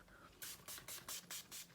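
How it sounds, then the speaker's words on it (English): Setting spray spritzed from a pump bottle onto a face: six quick hissing sprays in a steady rhythm, close and fairly soft, over a quiet room. "I'm just going to spritz my face"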